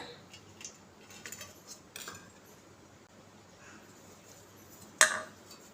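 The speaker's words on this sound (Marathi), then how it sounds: "हे ढोकळा पात्राचं पात्र आहे आपण याला आता सगळीकडून तेल लावून घेऊया" Metal clinks and light scrapes as oil is spread across a steel dhokla steamer plate, soft intermittent handling with one sharp clang near the end.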